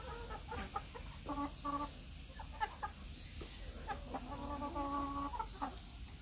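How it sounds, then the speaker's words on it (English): Fifteen-week-old chickens cluck and chatter steadily at moderate distance, with repeated short calls and a few drawn-out notes over a constant background hiss. "The chickens are 15 weeks old today."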